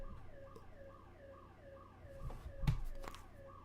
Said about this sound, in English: I think that's my neighbor's alarm.